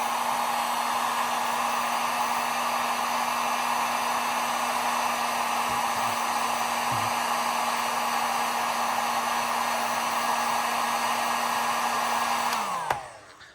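A heat gun blows steadily on resin for about thirteen seconds, a constant loud whooshing hiss with a fixed motor hum, then switches off and winds down abruptly at the end.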